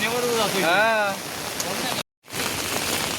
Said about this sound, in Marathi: एवढा पूर आला आहे ना पूर्ण पाणी बाहेर आलेलं आहे